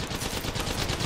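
Rapid, continuous automatic gunfire in the battle-royale video game Apex Legends: a dense, steady stream of close, loud shots with a fast pulsing rhythm and no voices.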